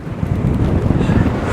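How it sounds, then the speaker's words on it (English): Strong wind roaring across a microphone while paragliding, a loud, steady low rumble with gusty buffeting throughout and no clear voice on top. "It's very windy now."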